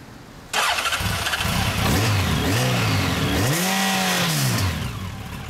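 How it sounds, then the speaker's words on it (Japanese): A Honda X4 motorcycle engine fires up and revs in several rising and falling bursts, loud and close, with a steady idle rumble underneath. "X4 エンジン音聞かせてもらえますか。"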